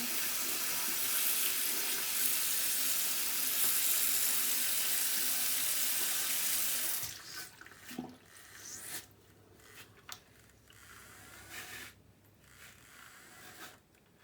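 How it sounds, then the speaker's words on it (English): A Selene brush cleaner and dryer runs with water from a tap, loud and steady for about seven seconds before the flow stops, leaving quieter scattered splashes and handling noises. "I'm just turning it on under the water because I want to make sure that I get off all the soap."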